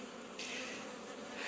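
Honeybees buzzing in an opened hive box during a routine inspection, a soft, steady hum with a few closer wingbeats rising briefly above it, faint and without talk.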